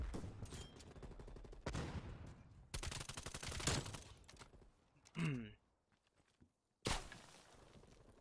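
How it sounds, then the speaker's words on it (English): Bursts of automatic gunfire in the Black Ops Cold War video game come in several rapid volleys, with sharp stops, a brief whooshing effect and near-silent gaps before one final burst. "Why is he shooting me?"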